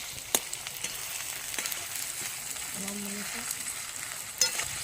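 Onions fry in a pan over a wood-fired stove, browning in a soft, even sizzle with a couple of sharp utensil taps near the start and end, and no one speaking.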